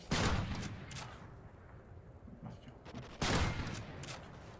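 Sniper rifle shots ring out in a Call of Duty: Ghosts multiplayer match, two sharp loud cracks a few seconds apart, each with a ragged echoing tail over quieter background gunfire.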